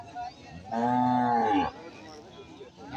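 A native-breed cow at a Kangayam cattle market gives one loud, drawn-out moo lasting about a second, set against a quieter background of market murmur.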